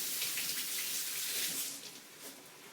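Tap water runs over fresh garden rosemary, a steady close hiss of flowing water that eases off slightly toward the end, with no voices.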